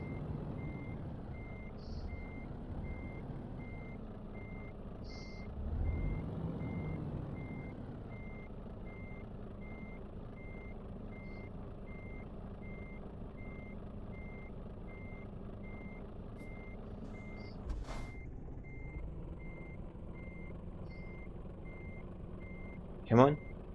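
A truck reverses in Euro Truck Simulator 2, a steady evenly spaced reversing beep running throughout over a low engine drone, with a brief air-brake hiss and some clunks.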